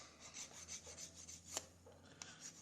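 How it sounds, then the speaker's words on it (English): A buffing stick rubs over a Bismarck scale model part to smooth away grind marks, making soft, faint, repeated rasping strokes with a few sharper scrapes and no talking. "I like to give these a bit of a buff. It takes away the grind marks."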